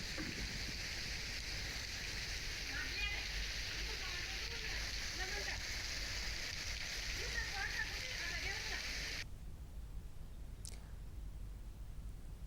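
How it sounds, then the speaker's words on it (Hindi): Heavy rain pours onto waterlogged streets in Bundi, Rajasthan, a steady broadband hiss throughout, with faint voices and water noise beneath until it cuts to a quieter rushing wash near the end. "झमाझम बारिश वहां हो रही है, वहीं सड़कों पर पानी नजर आ रहा है बूंदी में।"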